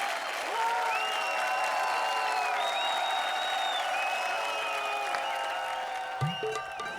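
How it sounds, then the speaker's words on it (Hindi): A comedy show's studio audience claps loudly and continuously, with a sustained tonal melody ringing over the clapping throughout and a brief thump near the end. "क्या बात है, जोरदार तालियां"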